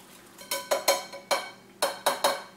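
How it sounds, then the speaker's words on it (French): A utensil clinks against a bowl while pearl wheat salad with vegetables, salt, pepper, ginger, garlic, onion and parsley is mixed: seven sharp, close metallic taps in uneven rhythm, with no talking. "Et là, je vais essayer de mélanger."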